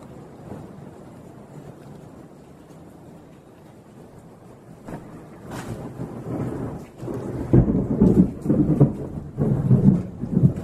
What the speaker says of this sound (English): As a matter of fact, it's storming pretty good right now.